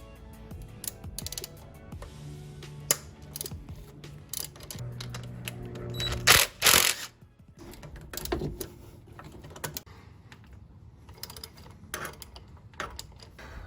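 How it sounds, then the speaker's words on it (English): Bolts being removed from the intake manifold of a 1990-1993 Mazda Miata 1.6: irregular ratcheting clicks and metallic tool clatter up close, with a louder clanking burst near the middle. "now we are just going to get these bolts off"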